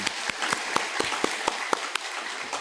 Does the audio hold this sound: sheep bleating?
no